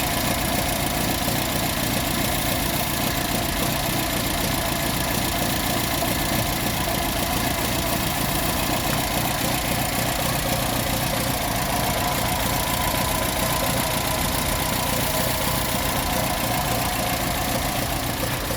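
A Ford Cortina Mk1 engine idles steadily and close by, a continuous even rumble with a fine regular pulse and no breaks, no voices.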